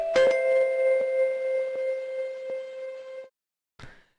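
A school bell rings at 7:30 a.m. in a Honkai Impact 3rd scene, a sustained chiming tone with evenly spaced strikes that cuts off sharply, followed by a brief separate sound after a short silence.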